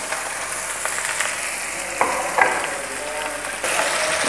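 Chopped garlic and spring onion sauté in a hot pan for egg fried rice, giving a steady close sizzle with a few brief stirring knocks and a louder burst of frying near the end.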